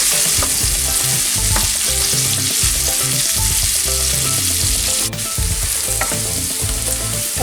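Onions, ginger and garlic frying loudly in hot oil for a baby shark fish curry, a dense continuous sizzle with stirring scrapes, close and unbroken with no talk.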